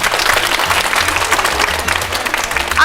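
Louder audience applause at a quiz show, a sustained, dense burst of clapping from a crowd, close and continuous throughout.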